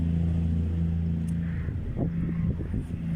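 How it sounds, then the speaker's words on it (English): A noisy truck rolls past close by, its heavy low engine drone steady and loud throughout, with some rougher rattling texture toward the end and no talking. "Noisy truck"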